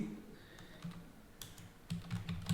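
Short bursts of keystrokes on a computer keyboard as a gcc compile command is entered at a command prompt, quiet close-up clicks in irregular clusters with pauses, no voices.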